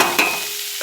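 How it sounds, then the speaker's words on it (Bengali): Onions frying in a pan for Bihari dal tadka, a brief close sizzle with a quick stir stroke and a light clink near the end. "পেঁয়াজটা একটু লাল লাল করে ভাজবো।"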